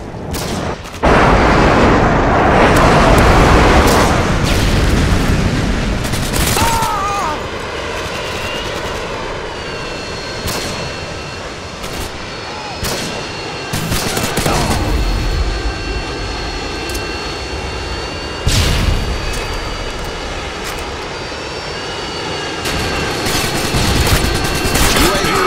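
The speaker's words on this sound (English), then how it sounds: "Friendly Harrier is inbound." In a video game, a Harrier jet roars overhead during an airstrike, with bursts of gunfire and sharp explosions breaking through the loud, sustained jet noise, and voices talking at times.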